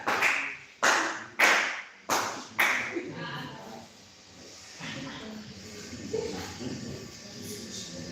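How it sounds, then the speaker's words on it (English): A short burst of several sharp, loud hand claps, evenly spaced over about three seconds, from a group at a live session, followed by a murmur of voices and talk. "Round of applause."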